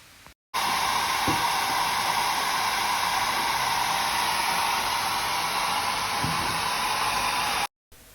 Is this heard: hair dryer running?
yes